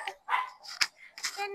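A puppy gives a few short, close yips and barks in quick bursts, mixed with voices in the background.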